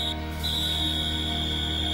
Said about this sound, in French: L'arbitre siffle la mi-temps sur le score de 2-1 en faveur de Genesis.